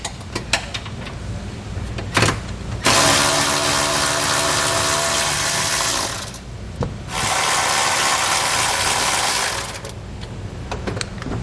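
Ratchet or power ratchet spinning out 15 mm bolts on the underside of a 2021 Chevrolet Equinox during a hitch install: a short tick, then two long sustained loud whirring runs of several seconds each with small clicks between, close up.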